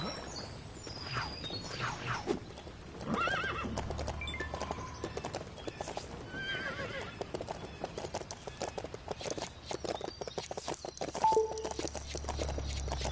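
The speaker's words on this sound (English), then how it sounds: "Look! Horses!" Horse hooves clip-clop steadily at a walking pace in Lego City Undercover, with an occasional whinny, over faint ambient sounds.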